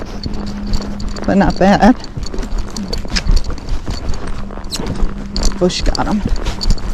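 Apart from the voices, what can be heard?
gaited Spotted Saddle Horse hoofbeats on a trail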